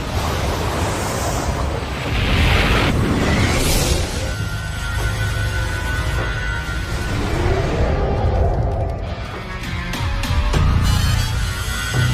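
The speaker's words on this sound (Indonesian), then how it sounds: "saking dahsyatnya ledakan dari bola api itu" A deep, roaring rumble with surging whooshes and crackling bursts, like a massive fireball explosion rolling through, sustained and loud throughout, in the video game Dragon Ball Heroes.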